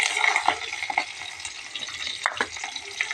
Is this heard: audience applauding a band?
no